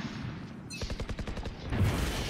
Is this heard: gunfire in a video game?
yes